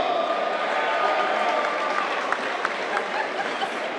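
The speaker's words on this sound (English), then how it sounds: "We're going to try to get through the crowd here that's still trying to file out of a standing room only" A standing-room-only crowd in a packed school gym after a boys' high school basketball championship game, a steady roar of clapping and murmuring voices with a few sharp claps near the end.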